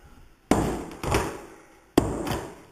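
A hammer pounding a nail into very hard wood trim during a house rehab: three sharp, loud strikes spaced about half a second to a second apart, each ringing briefly and decaying.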